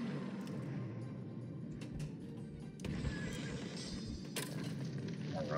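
Horse neighing and clip-clop hooves from a flying horse in a pinball-style video game, mixed into a busy, faint game soundscape with scattered clanks and chimes.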